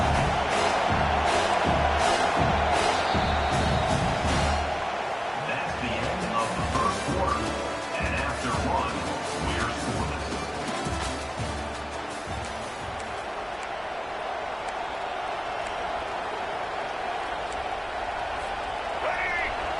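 A football stadium crowd roars steadily through a big third-down moment, loud dense cheering with bursts of clapping near the start that eases slightly into a sustained, distant-sounding rumble of noise.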